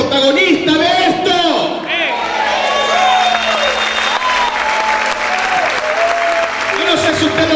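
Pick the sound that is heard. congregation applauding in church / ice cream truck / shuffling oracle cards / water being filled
congregation applauding in church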